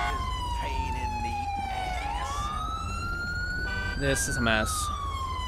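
Police cruiser siren in GTA 5 with the LSPDFR mod, a loud continuous wail sweeping slowly down and back up, right up close and steady throughout, with a brief spoken line and engine noise underneath.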